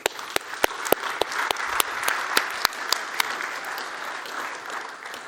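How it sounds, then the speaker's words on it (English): Audience applause at a startup society event on tribal nations and free cities, a dense steady clapping wash with sharp individual claps standing out, sustained for several seconds without speech. "Let's give applause for that."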